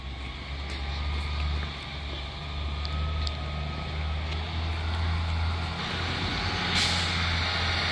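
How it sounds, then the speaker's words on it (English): A bus pulling up outside a home in the morning, its heavy engine rumbling low and steady with a brief hiss like an air brake, fairly close and continuous with no talk. "We can hear the bus."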